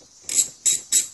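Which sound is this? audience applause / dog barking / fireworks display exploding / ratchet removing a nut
ratchet removing a nut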